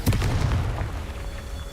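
The Confringo fire spell in Hogwarts Legacy goes off as a single loud, close explosion, with a heavy booming burst that rolls out and decays over a second or so.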